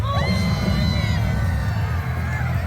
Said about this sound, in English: Everyone scream!